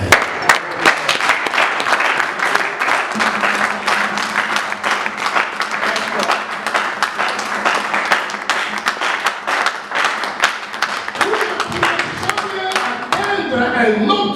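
A church congregation applauds in dense, sustained clapping, steady and loud throughout, with voices mixed into the crowd sound.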